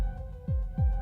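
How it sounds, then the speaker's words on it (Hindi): Two slow, deep heartbeat thuds over a steady low hum, each a heavy throb with a falling pitch, spaced about a third of a second apart in a horror story. "उसके दिल की धड़कन फिर से शुरू होगी या नहीं"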